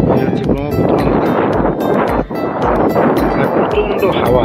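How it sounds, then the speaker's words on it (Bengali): Strong, cold wind on the bank of the Brahmaputra River buffets the microphone in loud, rumbling gusts throughout, and a person talks under the roar. "আর প্রচণ্ড হাওয়া এই জায়গাটায়,"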